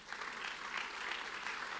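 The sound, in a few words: congregation applause in church service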